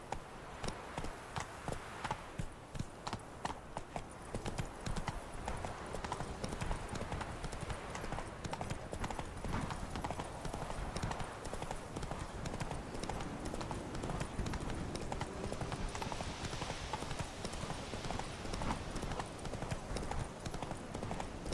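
Roach, Geralt's horse in The Witcher 3: Wild Hunt, gallops with a fast, continuous rhythmic clatter of hooves across the whole stretch, steady and close amid game ambience.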